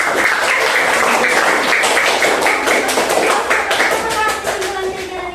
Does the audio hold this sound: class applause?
yes